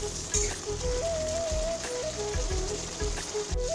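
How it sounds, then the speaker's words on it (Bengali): Pointed gourd sautéing with spice paste in a pan gives a steady, close sizzle with a crackly rhythmic scraping underneath, overlaid by a faint melodic tune and no talk. "মশলাটা দিয়ে পটলগুলো আমি কষাতে থাকবো।"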